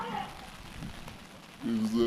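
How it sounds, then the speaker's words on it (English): Steady rain falls on surfaces at an outdoor Labour Day ceremony, a soft continuous patter under a voice speaking. "when it rains like this in my place"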